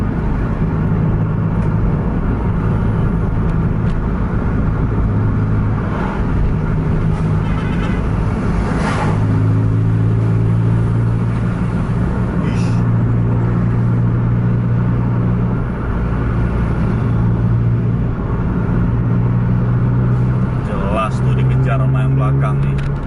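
Scania buses racing along a road, including a Scania K410, heard as a loud continuous engine drone with shifting pitch as they run close together, under steady commentary from a man.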